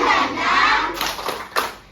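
Schoolchildren in a classroom shout together during a spirit-clap routine, followed by a few loud, sharp group claps in a quick, uneven pattern.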